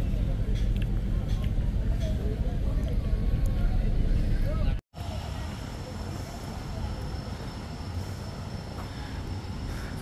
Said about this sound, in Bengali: তো কাউখালী লঞ্চ ঘাট থেকে চলে যাচ্ছে।